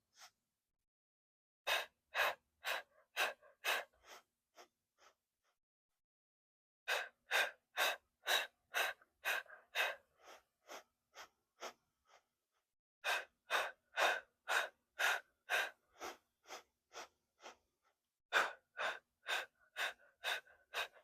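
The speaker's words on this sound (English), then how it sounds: "Breathing in through the nose 5 times and then exhaling out 5 times" Pilates hundreds breathing: sharp rhythmic nasal sniffs and puffed exhales in tight bursts of about five, separated by short pauses, close and clear with no talking.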